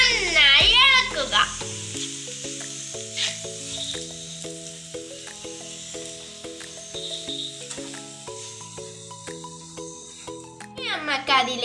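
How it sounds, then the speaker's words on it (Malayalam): Turmeric, chili and pickle powder stirred into hot oil for a date pickle give a steady, soft sizzle throughout, mostly under louder background music. "ഇനി നമുക്ക് അതിലേക്ക് മഞ്ഞൾപ്പൊടി, മുളക് പൊടി, അച്ചാർ പൊടി ഇട്ട് നന്നായി ഇളക്കുക."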